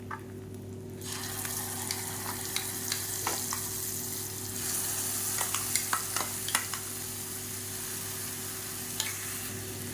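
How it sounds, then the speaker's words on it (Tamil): Ground garlic paste fries in oil in a pan for garlic thokku, giving a steady sizzle with scattered scraping and stirring clicks under a constant hum. "இப்போ இது எல்லாமே சேர்ந்து நல்லா அப்படியே பொறிஞ்சு வரணும்"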